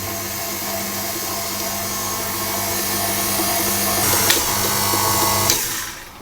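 An electric mixer runs on slow through devil's food cake batter, giving a steady loud motor hum with a faint scrape near the end before it cuts off.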